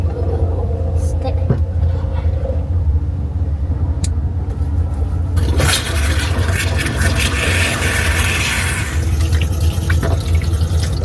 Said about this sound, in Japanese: まずはちょっと手を洗いたいと思います。 水ポンプをして